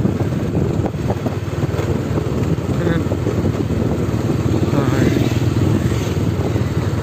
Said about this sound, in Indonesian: Enaknya pakai sepeda motor ini kayak gini